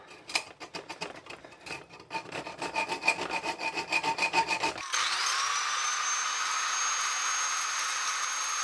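A hacksaw rasps back and forth through a metal bracket in quick rhythmic strokes, then an angle grinder takes over with a continuous high whine, both close and loud with no voices.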